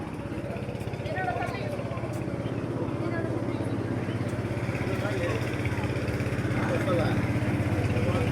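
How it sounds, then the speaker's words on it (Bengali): A motor boat passing on the Turag river makes a steady, low chugging engine drone that holds at a moderate distance throughout, with faint voices in the background. "যে নৌকা চলে যাচ্ছে সুন্দর।"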